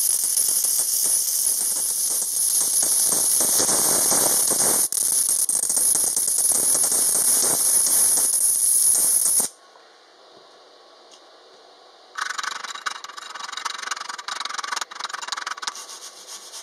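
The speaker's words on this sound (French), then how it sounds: "Un petit aperçu d'une soudure avec trop peu d'intensité." MMA stick welding on a fillet joint with the amperage set too low gives a steady, loud crackling hiss for about nine seconds, then a brief quiet pause before a second, more sputtering burst of arc noise.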